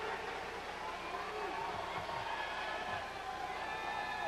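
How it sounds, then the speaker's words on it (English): A pro-Ohio State crowd roars and cheers in the arena at the 2001 NCAA Men's Gymnastics Championships, a dense, sustained wall of noise from many voices. "The pro-Ohio State crowd is roaring with every move."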